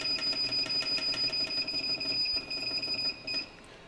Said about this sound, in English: But beeping in the background